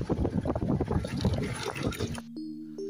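A shallow mountain stream being crossed gives a close, bubbling rush of flowing water for about two seconds, then cuts away to near silence with a faint steady tone.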